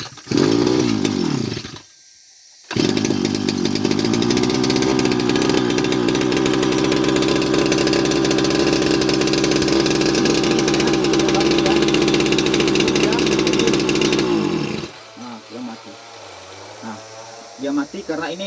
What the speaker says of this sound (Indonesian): saya akan mencoba hidupkan mesinnya